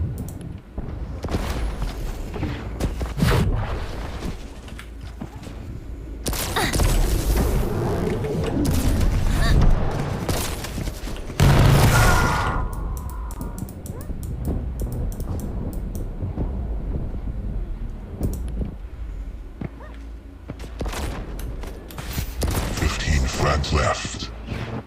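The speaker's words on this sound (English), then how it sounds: "Somebody's shooting at me" Repeated booming gunfire and heavy blasts in a video game, dense and continuous with rumbling low end, under excited talk throughout.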